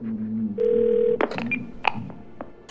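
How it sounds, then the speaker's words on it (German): Telephone dialing in the game 12 Minutes: a steady tone followed by a series of short, crisp keypad beeps, close and clear in a quiet room. "Dann telefonieren wir mal mit Bumblebee"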